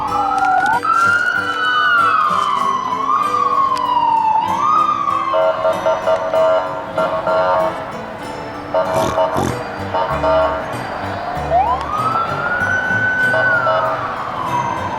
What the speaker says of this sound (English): Oh, I see a police car.